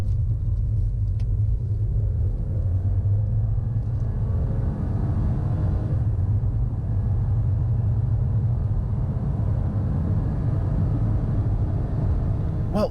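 A 2022 BMW 118i accelerates hard from 30 to 70 mph, heard from inside the cabin as a steady, loud low engine and road rumble that holds for about thirteen seconds with no speech.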